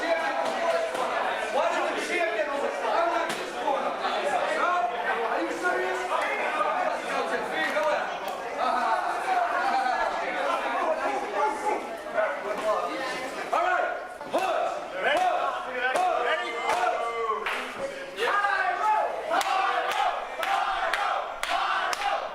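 A wrestling crowd cheers and shouts for the popular fighters at an indie show, loud and sustained, with whoops, chatter and sharp slaps or bangs scattered through it.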